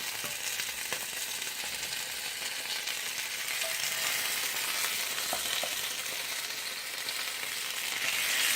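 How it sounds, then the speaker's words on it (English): Chicken pieces for adobo pan-frying in a little hot oil, a steady bright sizzle that holds close and constant, swelling slightly toward the end, with a few faint utensil clicks and no voices. "just pan fry it a little bit in a hot pan with oil"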